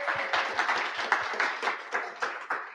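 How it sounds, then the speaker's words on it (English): A conference audience applauds the speakers at a Global Azure Bootcamp event in London, a modest and fairly faint round of scattered claps with distinct individual hand strikes in a loose rhythm. "I think we need to give a big round of applause to all of the speakers"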